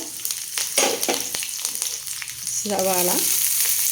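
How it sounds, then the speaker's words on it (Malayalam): Hot coconut oil sizzles steadily while mustard seeds pop and crackle in sharp, scattered bursts, with a brief voice breaking in near the end. "വെളിച്ചെണ്ണ ഒഴിച്ച് കടുക് പൊട്ടിക്കൊണ്ടിരിക്കുന്നു"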